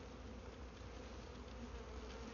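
A full hive of honeybees during a swarm transfer gives off a dense, steady buzz that fills the whole clip, continuous and close, with no voices over it.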